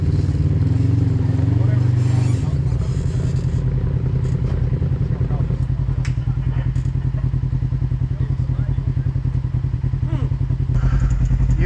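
An off-road motorcycle works up a rocky trail, its engine chugging and revving in a rapid, steady pulse with clattering and thuds from the rocks, while people talk nearby.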